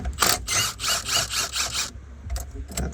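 A Milwaukee power tool runs in short bursts at a junkyard, a loud close whirring buzz pulsing on and off several times over a few seconds, no talking.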